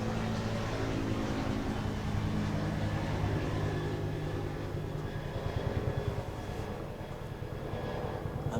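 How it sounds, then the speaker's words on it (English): Helicopters pass overhead, producing a loud, sustained rotor and engine roar with a rhythmic low thumping that gradually shifts and fades slightly toward the end, with no talking. "I'm just gonna let the helicopters fly by. It's making too much sounds, might get in the way."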